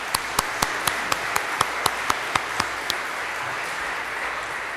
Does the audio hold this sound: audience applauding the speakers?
yes